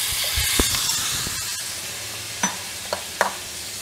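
Chopped pumpkin for a subzi fries in a pan, giving a constant sizzle and hiss. Several sharp clacks of stirring sound near the end, with no talk.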